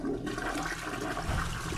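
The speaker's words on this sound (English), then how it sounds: "suddenly I heard the toilet flushing by itself" A toilet flushes with a steady rushing, gurgling surge of water, close and continuous throughout.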